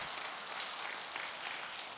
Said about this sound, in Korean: 우리 박수로 하나님께 영광 올리겠습니다